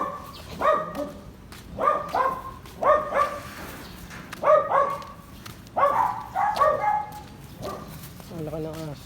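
A large dog barks repeatedly in short, loud bursts during a walk through a village, the barks coming in quick clusters, with a brief higher yelp at the end.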